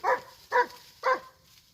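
Akbash puppies give three short, evenly spaced barks, close and clear, with nothing else around them.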